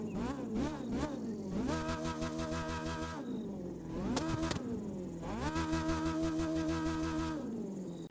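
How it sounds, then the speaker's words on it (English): An F1 race car engine in The Crew 2 roars and revs up and down repeatedly, with rising and falling pitch sweeps, loud and continuous throughout, synthetic and game-like. "these new F1 cars sound incredible"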